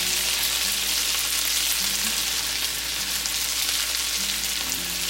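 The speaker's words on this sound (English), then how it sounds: "I want to fry this corn for a couple of minutes" Canned corn frying in melted butter with house seasoning in a skillet gives a loud, constant close sizzle and hiss that carries on without a break and with no voices.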